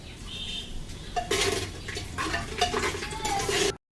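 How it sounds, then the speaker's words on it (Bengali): Whole spices (bay leaves, cinnamon, cardamom and cloves) stirred in hot oil, with soft sizzling and a few spoon clinks against the pot at close range before it cuts off abruptly. "দিয়ে এবার একটু তেলের মধ্যে নাড়াচাড়া করে নেবো"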